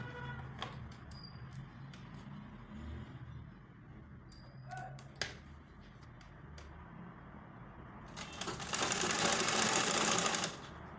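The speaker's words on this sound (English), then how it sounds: "So you go ahead and keep sewing like that." A sewing machine stitches a baby girl's halter-neck peplum, a faint steady hum with light clicks, then a louder, brighter whirring run near the end, with no voices.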